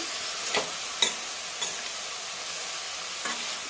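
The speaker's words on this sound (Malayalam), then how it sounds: "അപ്പോൾ ഇതെല്ലാം കൂടെ ഒന്ന് ഇളക്കി" A curry mixture with grated coconut is stirred in a pan, giving a steady soft sizzle broken by a few short scraping knocks of the spoon, close by and without talk.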